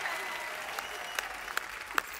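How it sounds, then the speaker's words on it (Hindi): A studio audience on The Kapil Sharma Show, a Hindi TV comedy show, applauds a guest with a sustained, dense wash of clapping, with a few sharper individual claps standing out near the end. "एक बार जोरदार तालियां हो जाए हनी सिंह के लिए"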